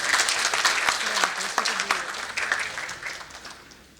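An audience at a panel discussion breaks into loud applause, dense clapping from the start that slowly thins and fades toward the end.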